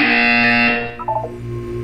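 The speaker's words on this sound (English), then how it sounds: "When you hear the buzzer, look up at the ceiling." A loud electronic buzzer from the video game Portal blares close and harsh for under a second, then fades into a brief warbling tone and a low hum.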